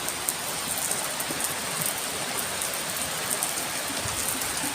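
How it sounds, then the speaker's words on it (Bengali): Heavy rain pours outside, a dense, even roar of drops on surfaces that stays loud and constant throughout with no voices. "এখন বাইরে প্রচণ্ড বৃষ্টি পড়ছে"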